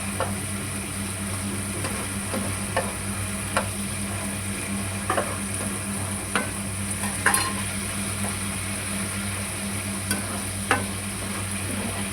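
Hot water poured into a frying fish curry of small folui fish, a thin Bengali-style gravy, setting off a steady low sizzle with faint stirring clicks and ticks scattered throughout, close by and without any talk.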